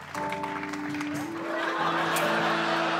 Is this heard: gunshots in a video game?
no